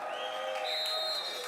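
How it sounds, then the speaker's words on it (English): Crowd cheering and whooping at a timbersports competition, a dense sustained roar of voices with whistles at a distance. "So you hear the crowd going wild for these guys."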